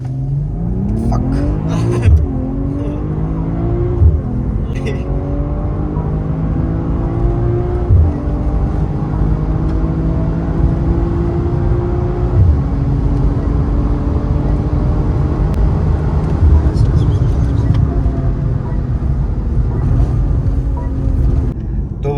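A BMW M340i accelerates hard, its engine note rising steadily through several gear changes with brief dips between shifts, loud and close from inside the car.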